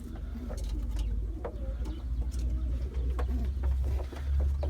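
Pigeons coo softly in a loft, low repeated throaty calls close by, with scattered wing flutters and small knocks around them.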